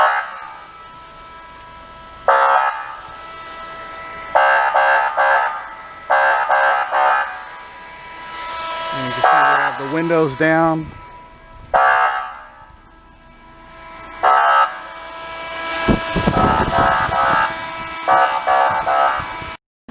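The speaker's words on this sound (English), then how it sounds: "We've got alarms going off on the PD. This is telling us that we have a overheat condition." Overheat alarm in a K9 police vehicle, a Ford Explorer, sounding in repeated loud electronic pulses with short gaps, while someone talks briefly over it.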